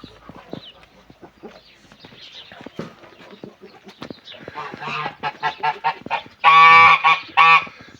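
Mammoth geese honk on a farm, scattered calls at first building to loud, dense bursts of overlapping honking near the microphone toward the end.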